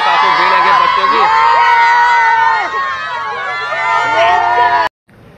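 A dense crowd of small children at a Durga temple fair fills the air with continuous, loud shouting and chatter, their overlapping voices steady and close before cutting off abruptly near the end.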